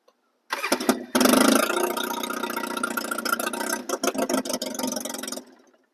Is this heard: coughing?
no